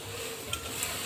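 Onion and potatoes fry steadily in a home kitchen pan, giving a continuous soft sizzle with faint crackles and no talking over it.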